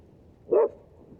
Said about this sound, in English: someone up there with their dog